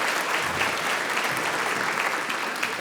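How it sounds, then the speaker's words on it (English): Steady audience applause fills a conference hall after a real estate trends panel, a dense, even wash of many hands clapping at close range and sustained for the whole stretch without a break. "One more round of applause for everybody"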